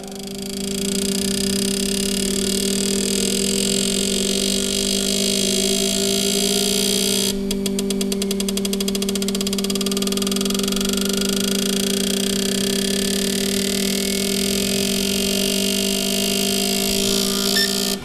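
Green R fuel injectors pulse steadily on a test bench during an acceleration test, a loud continuous buzzing drone with a burst of rapid clicking partway through, no voices.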